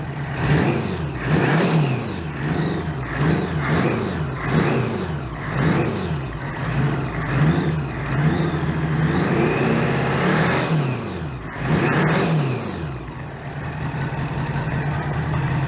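A 1982 Honda GL1100 Goldwing motorcycle engine, freshly fitted with a single-carburetor conversion, runs close by with a steady idle broken by repeated rhythmic revs rising and falling, and no voices over it.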